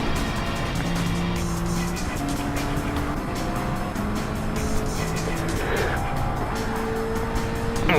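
A race car overtakes for second place amid loud engine roar and squealing tires, the pitch of the engines shifting as cars pass in a dense, continuous racing din.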